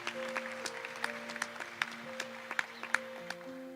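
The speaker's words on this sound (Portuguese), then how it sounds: "Pode aplaudir mais uma vez, isso é lindo" Church congregation clapping in a steady, moderately distant patter, with a few sharper claps standing out and a sustained tone humming underneath.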